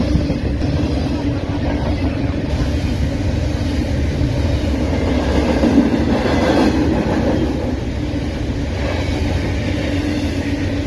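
A long freight train rolls past at Fullerton, a loud, continuous rumble of rail cars with faint clickety-clack of wheels over the joints, close and unbroken throughout.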